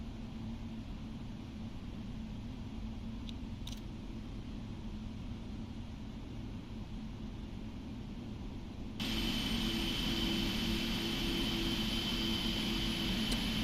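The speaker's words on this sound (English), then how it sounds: "Go ahead and start engine number 1." A PMDG Boeing 737 jet engine starts up in the Prepar3D flight simulator: a steady, droning hum that swells abruptly into a louder, brighter whine partway through and holds there, with no talking.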